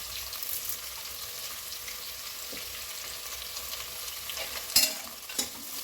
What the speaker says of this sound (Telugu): ఇవన్నీ మంచిగా కలిపి కొద్దిగా వేగనిద్దాము.